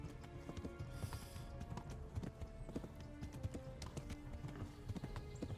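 Horses gallop with rapid, steady clip-clop hoofbeats in Kingdom Come: Deliverance, several animals close and loud, with occasional whinnies mixed into the continuous rhythm.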